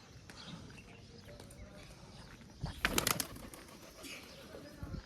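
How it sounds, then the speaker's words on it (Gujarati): Pigeons gathered to feed make faint cooing and shuffling against quiet outdoor ambience, with a brief louder flutter of wings near the middle and a soft rustle at the end. "જો બધા કબૂતર વયા ગયા ખાવા"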